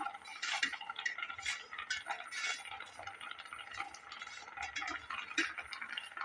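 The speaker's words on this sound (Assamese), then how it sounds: "এতিয়া গোটেইখিনি ভালদৰে এইদৰে মিলাই ল'ম।" A spoon stirs roasted semolina into hot sugar syrup in a pan for a sweet, giving soft scraping and light clinks of metal against the pan, irregular and close, with a gentle bubbling beneath.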